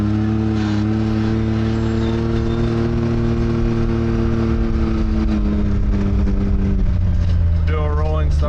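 Can-Am X3 side-by-side fitted with a KWI clutch kit and float mod, its engine droning steady and close before the pitch climbs near the end as it accelerates, with a voice talking over it.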